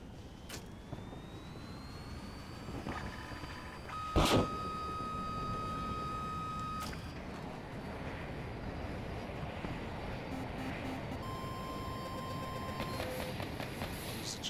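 A jet aircraft engine roars steadily in Battlefield 2042, a continuous loud whooshing drone with one sharp bang partway through and intermittent electronic warning tones over it.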